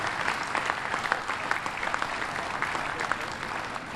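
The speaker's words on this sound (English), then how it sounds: "So give them another round of applause for their hard work and dedication." Steady audience applause fills a submarine christening ceremony at a shipbuilding yard, dense continuous clapping from a large crowd throughout, with no voices standing out.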